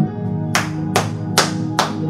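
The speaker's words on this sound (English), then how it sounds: "Let's clap to the Lord this morning" Church congregation clapping hands in worship, four loud, evenly spaced claps in a slow rhythm over a sustained musical backing.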